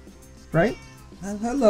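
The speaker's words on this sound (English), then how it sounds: "That's my cat." A pet cat meows twice up close, a short call followed by a longer rising one, with a person speaking briefly around the meows.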